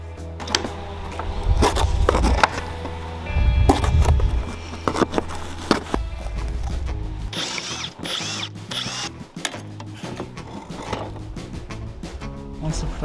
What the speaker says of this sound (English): Yeah, I love using the angle grinder.